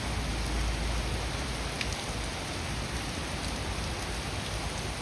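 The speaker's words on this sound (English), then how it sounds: "Florida, rain, rain, rain. Lots of rain today." Steady, dense rainfall in Florida hissing continuously across the whole stretch, a broad wash of patter with no voices.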